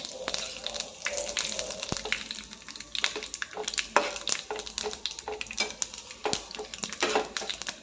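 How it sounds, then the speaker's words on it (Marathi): Crushed coriander, cumin and fennel seeds with whole spices and mustard seeds sautéing in hot oil in a pan for a potato curry, with a steady sizzle broken by frequent sharp scraping and stirring clicks. "त्यानंतर आपण क्रश करून घेतलेले धने जिरे आणि बडीशोपे घालते खडा मसाला एक दोन मिनटं परतून घ्यायचं आहे"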